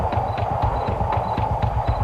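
A horse's hooves clip-clop in a steady, rapid rhythm, loud and close, layered over a low rumbling background with no voices.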